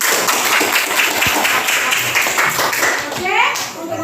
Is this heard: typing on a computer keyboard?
no